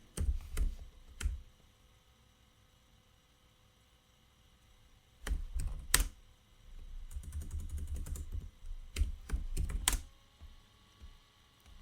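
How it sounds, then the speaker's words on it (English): Computer keyboard typing in short bursts of clicking keystrokes separated by quiet pauses, close and fairly loud, while entering code, with no speech. "I will type"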